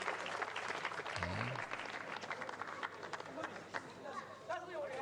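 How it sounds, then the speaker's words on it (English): Audience applause fills the Yamakoshi bullfight ring, steady clapping and crowd noise held at a constant level from start to end, with chatter and voices mixed through it. "Waiting for the applause."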